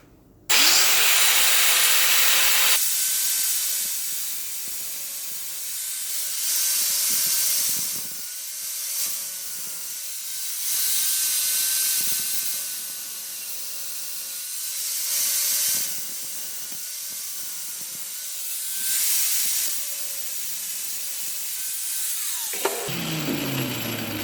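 Thin stainless steel bracket stock being cut by a high-speed tool throwing white-hot sparks, a steady close whining hiss that swells and dips in several passes over about twenty seconds, with no talking.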